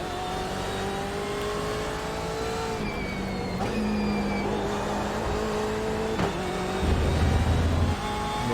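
A racing car driving a lap of a circuit roars through rising and falling engine revs as it shifts gears, loud and close, with tire noise and a few sharp transitions between pitches.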